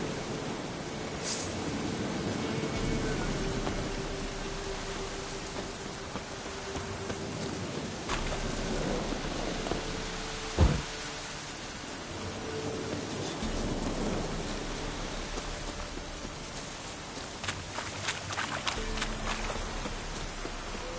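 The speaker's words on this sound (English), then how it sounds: "Lightning strike." Thunderstorm ambience from The Witcher video game: steady rain hiss fills the scene, with low thunder rumbles and one sharp crack near the middle, all without talk.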